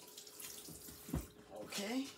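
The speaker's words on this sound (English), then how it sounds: "Just 2 seconds to rinse my spoon off." A spoon is rinsed briefly under a running kitchen tap while making a pie, giving a soft gush of water with a few splashes, faint and close, as someone speaks a single word.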